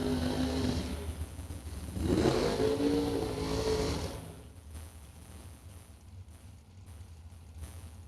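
Bracket race cars accelerating hard down a drag strip, a loud engine roar rising in pitch around the middle and fading away, with a fainter distant engine rumble continuing after.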